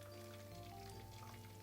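Tempura deep frying in hot oil in a home kitchen gives a soft, even sizzle and crackle, low and steady throughout, with no voices.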